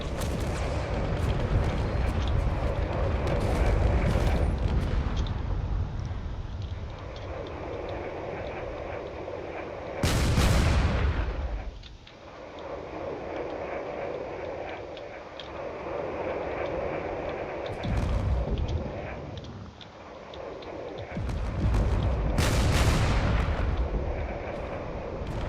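Weapons fire from a damaged drone in a space combat game: a continuous barrage of booming shots and roaring blasts, with several loud bursts standing out around the tenth, eighteenth and twenty-second seconds.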